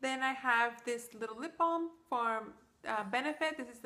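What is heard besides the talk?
No everyday noise stands out behind the speech.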